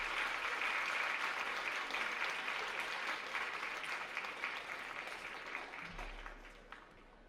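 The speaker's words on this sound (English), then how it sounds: "How about one more round of applause for Mark for being here today?" Sustained applause from a crowd, steady clapping that gradually fades toward the end.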